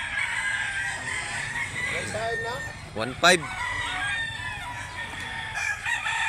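Roosters and bullstags crow loudly and close, several overlapping calls rising and falling, with chickens clucking and someone speaking briefly over the birds, at a fowl seller in Mantalungon, Barili, Cebu.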